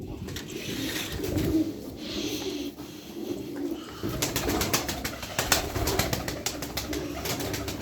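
Pigeons coo steadily in a loft, soft throaty calls overlapping one another with faint wing flutters and rustling close by.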